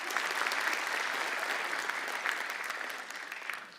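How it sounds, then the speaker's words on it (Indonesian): A stand-up comedy audience breaks into steady applause that stays even for several seconds and then gradually thins out toward the end. "respect tepuk tangan lu buat beliau"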